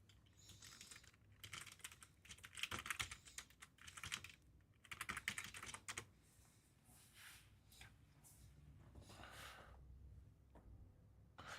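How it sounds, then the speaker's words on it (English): Close, quiet clatter of fingers on a computer keyboard in irregular rapid bursts, thinning toward the end, with no voices over it. "Let me type it in here."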